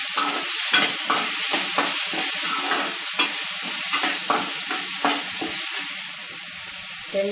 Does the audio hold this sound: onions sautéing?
yes